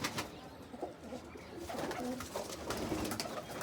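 Pigeons coo nearby in low, soft, repeated calls that run steadily through the moment, with no one talking.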